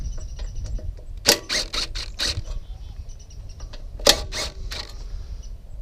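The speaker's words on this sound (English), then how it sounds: "This is a 3/8 socket." A 3/8 socket wrench removing bolts from a Briggs and Stratton engine during a flywheel key repair, heard as two close bursts of quick ratcheting clicks over a low steady hum.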